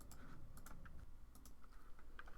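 Rapid, light keystrokes on a computer keyboard as someone types a Linux command, with soft irregular clicks in quick succession, close and clear, and no talking.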